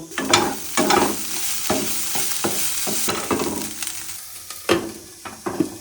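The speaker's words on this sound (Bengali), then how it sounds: "একদিকে করলা আলু ভাজা করছি" Bitter gourd and potato pieces fry in oil in a pan, a steady close sizzle broken by several sharp clatters of the spatula stirring them.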